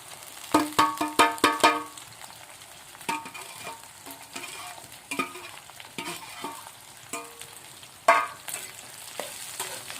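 Onions fry in a pan, sizzling continuously up close while a utensil clatters and stirs in quick bursts, no speech.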